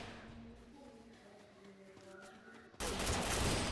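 SCAR rifle fire in a video game: a quiet stretch with faint tones, then a loud, dense burst of gunfire crashes in near the end and keeps going.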